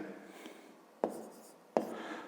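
Pen writing out a fifth-grade math exercise solution on paper, with soft continuous scratching and two sharper taps or strokes about a second apart, close and quiet with no talking.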